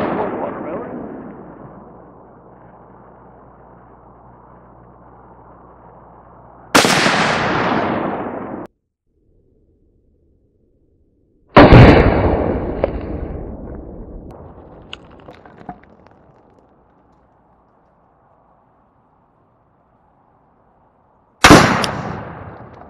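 A .50 BMG Barrett rifle fires at watermelon targets in three very loud, booming shots spaced well apart, each with a long rolling echo, following a low steady rumble at the start.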